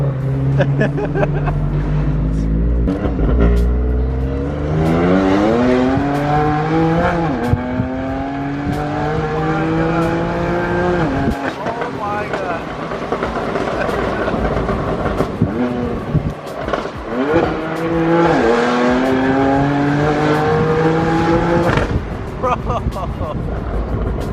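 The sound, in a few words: sports car with titanium exhaust accelerating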